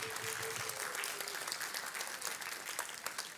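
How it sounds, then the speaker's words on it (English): Applause from a class audience at a workshop, a dense burst of many people clapping in a room, fairly faint and distant, with a brief voice underneath at the start. "I would love to hear one more round of applause for these two who did an amazing job"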